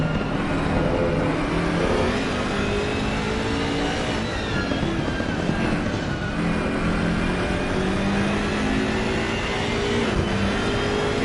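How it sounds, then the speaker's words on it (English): Onboard a BMW 6 Series race car chasing a GTR, the engine roars continuously and loudly under acceleration, pitch climbing and shifting through gears, with steady road and wind noise throughout. "we're on board with Chris in the 6 Series BMW chasing the GTR"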